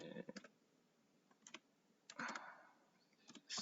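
Key clicks from typing on a laptop keyboard come in short, quiet bursts separated by pauses, with no voices.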